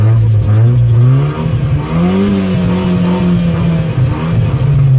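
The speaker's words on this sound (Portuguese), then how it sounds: "Mexe, acelera bastante." A Chevrolet GSI car engine revving hard while stationary, its tone rising and falling in repeated pulls, loud and close with a gritty mechanical clatter.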